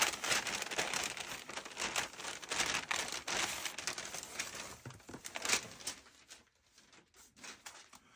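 Plastic packaging crinkles and rustles as it is pulled off a reproduction switch support bracket for an IMSAI 8080 control panel. The crackling is close and continuous for about six seconds, then fades to quieter, sparse rustles.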